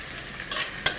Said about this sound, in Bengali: পেঁয়াজ ছাড়লাম। পেঁয়াজ ছাড়িয়ে হালকা